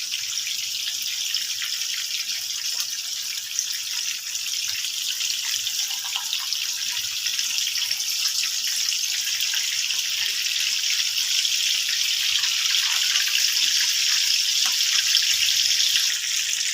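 Beef chapli kebabs fry in a pan over a low flame, giving a steady, even sizzling hiss that holds unbroken throughout with no talk.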